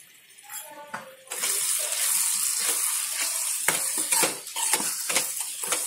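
Spice masala of red chilli, coriander and turmeric powder with salt sizzling loudly in a pan, a steady hiss broken by scrapes of a spoon mixing it, close up.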